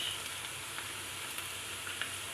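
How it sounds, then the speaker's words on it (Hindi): Garlic and ginger frying in a pan produce a quiet, even, hissing sizzle that holds steady, with a few tiny pops and no voices. "मैंने ये देखें अच्छे से फ्राई कर लिया लहसुन और अदरक को"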